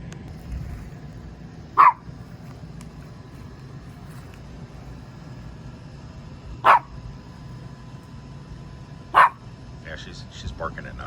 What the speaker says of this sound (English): She's barking at nothing.